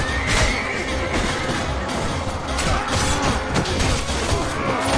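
Horses neigh amid a chaotic battle in the Mount and Blade: Warband video game, with loud whinnies rising over dense clashing and crashing combat noise throughout.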